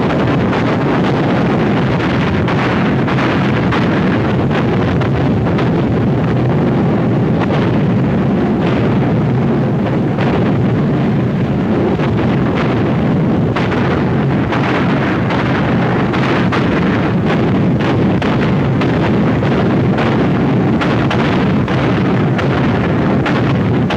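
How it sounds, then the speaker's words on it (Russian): Continuous loud rumbling and booming of heavy artillery fire in the 1943 Battle of Oryol, dense and sustained with repeated blasts blending into a roaring wall of sound. "Сейчас заговорит тяжелая артиллерия"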